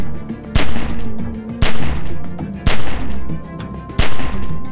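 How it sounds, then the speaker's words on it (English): Four loud, sharp gunshots from The Walking Dead video game, spaced about a second apart, each with a short ringing decay over a steady low hum. "Remember, don't stop shooting."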